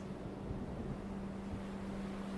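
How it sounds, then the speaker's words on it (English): Steady roaring wind with a low rumble of rough water, constant and loud throughout, no voices. "The wind is loud."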